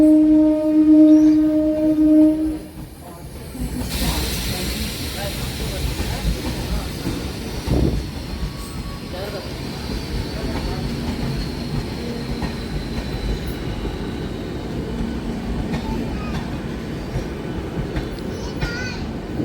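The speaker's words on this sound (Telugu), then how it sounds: "పెద్దపల్లి జంక్షన్ నుంచి కూడా మన ట్రైన్ అయితే బయలుదేరిపోయిందండి" Singareni MEMU train departing Peddapalli junction: a sustained tonal horn blast at first, then a long steady rumble of rolling carriages with faint clatter and squeal.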